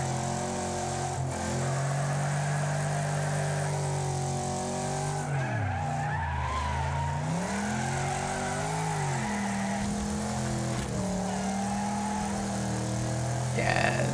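Racing car engine in the Wreckfest demolition-derby video game, a steady loud drone whose pitch rises and falls through gear changes and cornering, with tire skidding mixed in.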